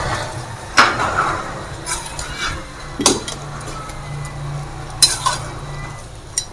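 Softened, cooked tomatoes stirred in a pan for beef Shinwari karahi, with a few sharp scraping clinks of a spoon against the metal over a low sizzle, close and moderately loud, no talking.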